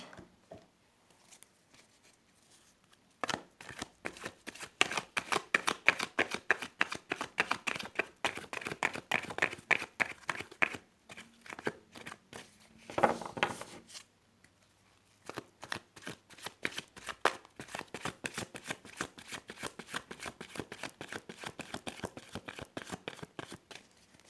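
A deck of tarot cards is shuffled over and over in close, crisp bursts of rapid riffling and flicking, with short pauses between rounds and no talking.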